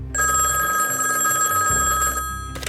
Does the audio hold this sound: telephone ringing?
yes